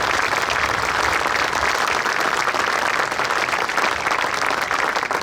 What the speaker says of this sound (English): Can I get applause for them too, please?